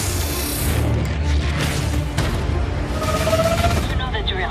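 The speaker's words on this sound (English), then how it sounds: "I got gunfire." Gunfire from the video game Firewall Zero Hour, dense booming shots and bursts layered over a busy combat soundscape, with voices talking through the action.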